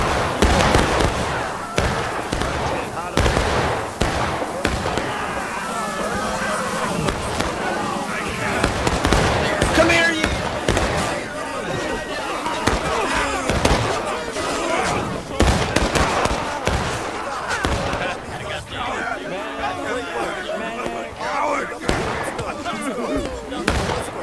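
Musket volleys crack out in War of Rights during a large battle, dense and overlapping, with sharp reports, scattered shots and booming fire throughout, while voices shout underneath.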